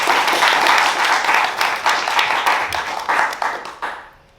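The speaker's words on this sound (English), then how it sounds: "round of applause for Stephanie as well" An audience at a panel discussion on LGBTQ elderly care applauds a panelist, steady close clapping that holds strongly for a few seconds, then thins and fades out.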